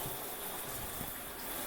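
A handheld wand shower sprays hot water in a steady, close, unbroken gush that holds at an even level throughout, with no voices over it.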